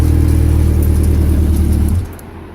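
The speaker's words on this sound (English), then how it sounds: "It revs up nice." A Honda CBX750 motorcycle engine revving with a deep, rumbling exhaust, holding steady and then dropping off sharply toward idle near the end.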